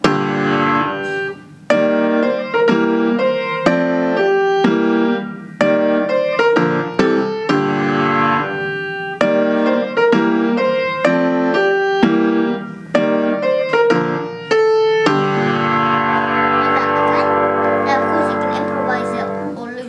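A theme plays on solo piano as a steady run of struck chords and melody, close and clear, ending in a sustained ringing chord.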